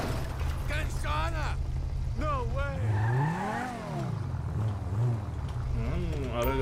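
A Porsche engine in GTA 5 Online revs and rises and falls in pitch, loud and close, with harmonic sweeps that climb and dip under a man's continuous speech.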